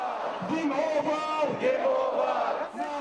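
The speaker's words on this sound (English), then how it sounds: "Crowds in Tahrir Square swelled to hundreds of thousands again, the biggest in days." A dense protest crowd of hundreds of thousands in Tahrir Square, Cairo, shouts and chants continuously in a loud, roaring wash of many voices, with surging cries rising and falling throughout.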